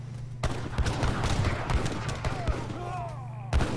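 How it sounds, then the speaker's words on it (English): Organ guns firing volleys in a real-time strategy battle game, several sharp booming shots spread across a busy battlefield din, moderately loud and mixed with other combat noise. "Organs are here to try to start firing away."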